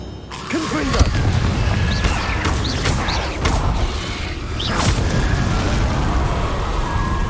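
Confringo fire spell blasts in Hogwarts Legacy: several sharp bursting pops and booms scattered over a busy, rumbling combat soundscape with creaking mechanical effects, fairly loud and close.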